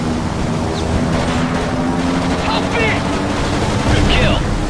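Machine gun fire in the World War II aerial combat game Blazing Angels over the Dunkirk evacuation, a continuous loud rattle of bursts over droning aircraft engines, with radio-style voices speaking briefly.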